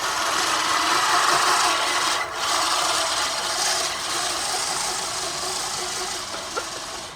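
Push reel mower cutting a yard lawn, a steady loud whirring rasp of spinning reel blades against the bed knife, close and continuous with small dips in level.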